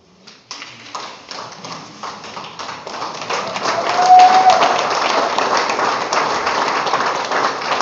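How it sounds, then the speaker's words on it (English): Audience applause at a solar plant inauguration ceremony at GBHS Fontem, honouring the 89-90 batch, swelling from scattered claps into sustained, dense clapping that grows louder midway and holds steady to the end. "give a well deserved round of applause to the members of the GBHS Fontem"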